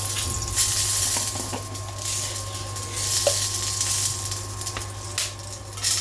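A bay leaf and two dried red chillies sizzle in hot oil, giving a steady, moderately loud hiss with faint clinks, and nobody speaks.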